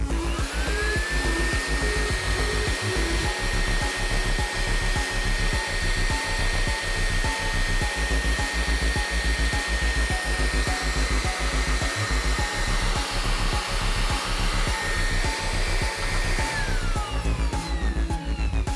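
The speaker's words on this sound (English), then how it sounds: "we turn the blower on and point it towards the propeller on the motor shaft" An air blower pointed at a propeller on a motor shaft roars steadily and loudly, with a rising tonal whine that holds level and then falls away near the end, over a rapid fluttering pulse.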